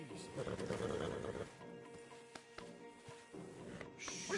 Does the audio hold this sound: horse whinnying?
yes